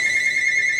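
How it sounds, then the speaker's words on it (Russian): A phone rings loudly during a smartphone repair: one steady, piercing electronic tone with bright overtones that holds for under a second, with no talk over it. "Они вовремя звонят, как обычно."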